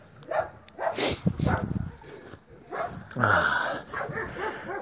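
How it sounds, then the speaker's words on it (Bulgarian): A puppy barking and yipping close by, several short, sharp barks in quick bursts with brief pauses between them. "Какво си ти? Кученце?"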